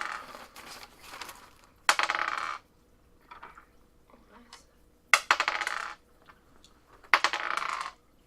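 Dice clatter across a tabletop during a Warhammer game in three or four sharp rattling bursts, each a second or so long and separated by quiet gaps, close and crisp.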